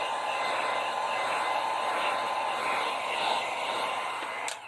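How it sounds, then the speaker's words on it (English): A heat gun blows hot air over an epoxy-coated tumbler: a steady, loud, even rush of airflow that runs unbroken for several seconds, then cuts off abruptly at the end. "I'm going to hit it with the heat gun."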